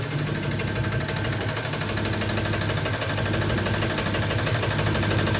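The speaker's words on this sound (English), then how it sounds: "I just want you guys to hear how the vehicle is running before we go ahead and replace that engine" A 2014 Jeep with a 6.4L engine idles rough ahead of an engine replacement, giving a steady, droning low rumble with faint mechanical clatter. The sound runs continuously at an even level, with no talking over it.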